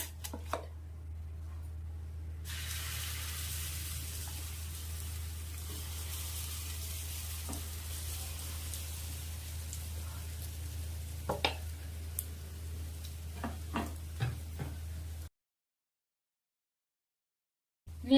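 Handvo batter stirred into a hot tempering in the pan with browned urad dal: a faint steady sizzle with scattered spoon scrapes and taps, ending in a short silence.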